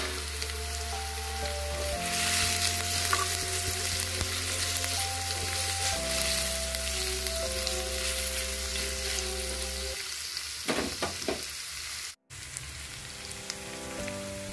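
Potatoes, radish and carrots fry in a pan with salt and turmeric for a spinach chorchori, giving a steady, close, continuous sizzle with a faint hum beneath and a brief dropout near the end.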